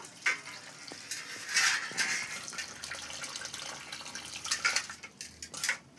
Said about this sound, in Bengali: প্রথমে তো আমি আলুটা ধুয়ে নেবো